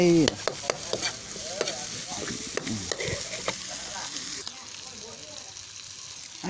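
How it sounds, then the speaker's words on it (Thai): Large freshwater clams are stir-fried in a wok over a fire, with a loud steady sizzle and repeated scraping and clattering of shells as they are tossed. The cooking is close up, and a voice comes in faintly. "ค่อยๆคั้วไป"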